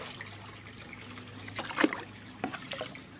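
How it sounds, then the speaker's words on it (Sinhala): Water trickles and splashes in short bursts as it is poured into a bucket holding a fish being acclimated; the pouring is fairly quiet, with no talking. "අපි ආයෙ පාර පොඩ්ඩක් මෙයාව වතුර ටිකක් දාලා ඇක්ලිමේට් කරගමු"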